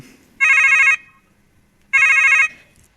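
A telephone bell rings twice, each loud electronic trill lasting about half a second with a pause between, clear and close with no voices.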